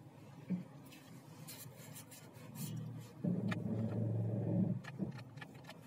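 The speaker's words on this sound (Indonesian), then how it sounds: "Kita menggunakan Mitsubishi, mobil Mitsubishi Automatic" A Mitsubishi automatic car with a 2000 cc engine driving on a road trip, heard from inside as a steady road rumble with rubbing and rattling, swelling louder for a stretch midway before settling back.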